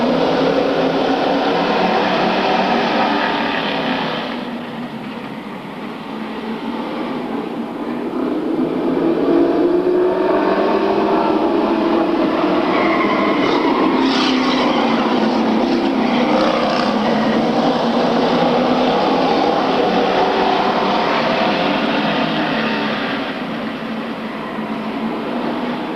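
Late model sportsman race cars roar around an oval track during a 10-lap semi-final qualifier, a loud continuous engine drone that swells and fades as the pack circles past.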